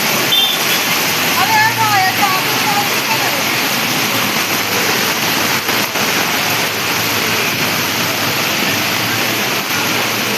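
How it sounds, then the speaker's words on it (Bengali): Heavy rain pouring down at night at a market, a loud, continuous roar of downpour throughout, with a voice speaking briefly under it. "মারাত্মক বৃষ্টি হচ্ছে"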